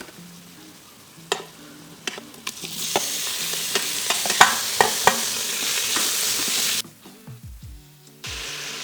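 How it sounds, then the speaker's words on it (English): Pork belly sizzling in an Instant Pot with garlic, ginger and star anise, stirred with sharp clatters of a utensil against the pot. The sizzle swells loud midway, then drops away near the end. "Fry this till the pork belly changes to a white color."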